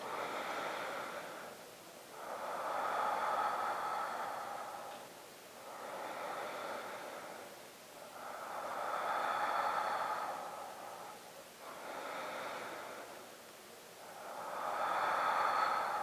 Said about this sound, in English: Take 3 more deep breaths.